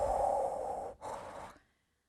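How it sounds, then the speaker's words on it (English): A CO2 sound art installation in a gallery gives off a low, breath-like exhale, two long airy whooshes separated by a brief pause, fairly loud and close, then fading to silence. "it sort of makes this very low frequency breathing sound of like"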